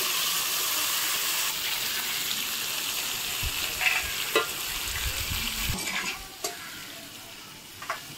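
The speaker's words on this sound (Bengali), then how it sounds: "পটলগুলো ভেজে নেবে," Pointed gourd pieces frying in leftover fish-frying oil, a loud continuous close sizzle with stirring scrapes and a few sharp clatters of the utensil toward the end, no talking.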